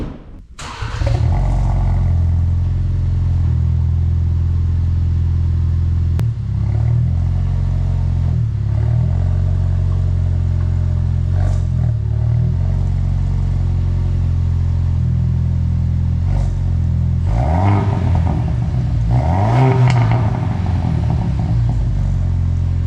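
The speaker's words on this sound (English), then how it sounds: "let me know what you think about this Flowmaster exhaust. It sounds pretty good at idle" Ford Bronco 6th gen with a Flowmaster exhaust idles with a steady, deep burble, broken by several short revs that rise and settle back, heard alone at close range.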